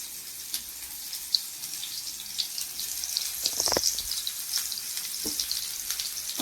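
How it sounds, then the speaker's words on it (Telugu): Stuffed bitter gourds fry in hot oil with a steady, fairly faint sizzle throughout, broken by a couple of louder crackling bursts as the pieces are turned. "ఈ చక్కగా వేయించుకోవాలి, చూసి తిప్పి తిప్పి అట్లా వేయిస్తేనే బాగుంటాయి"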